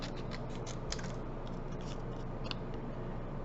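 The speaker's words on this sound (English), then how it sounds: "So we're just cut that out with my scissors." Scissors fussy cutting around a printed paper card for a handmade card project, a steady close run of crisp snipping and rustling with no voices.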